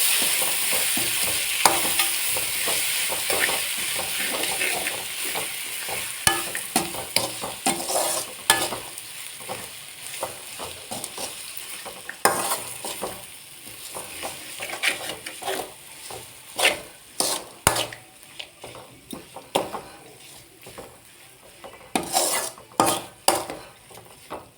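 Mango pieces stirred in a pan for mango rice, with repeated sharp spoon scrapes and clinks against metal over a continuous sizzle, close and fairly loud, with no voices.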